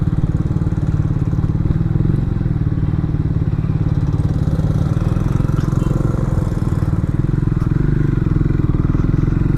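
A Triumph motorcycle engine runs steadily and loudly close by, with a rapid, throbbing putter that continues without a break.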